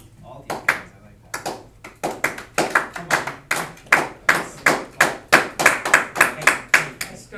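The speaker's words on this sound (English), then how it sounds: "You're gonna applaud, just start applauding." Students in a classroom clap, the sharp individual claps at first sparse then settling into a fast, even rhythm, close and distinct.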